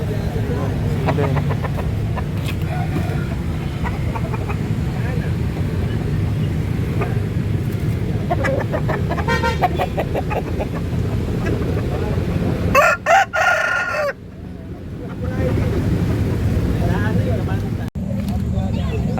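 Roosters crow repeatedly across a busy, crowded chicken market in Daya, Makassar, with steady crowd chatter and bustle running underneath throughout.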